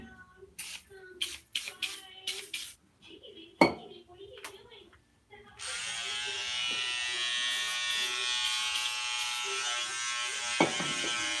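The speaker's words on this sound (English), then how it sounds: "I got my Andy's Slimline Pros. That's what I'm gonna be trimming up with." Andis Slimline Pro trimmer buzzing steadily while trimming hair for 360 waves, a close, sustained electric hum that switches on partway through after scattered handling clicks and knocks.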